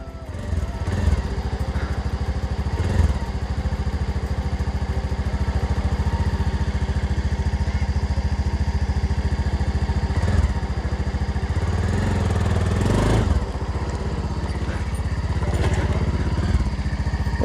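A motorcycle rides a rough, broken mountain road to Chamero Gufa in Dhading, its engine droning steadily and loudly up close with bumps and clatter, wind rumbling underneath and no talk.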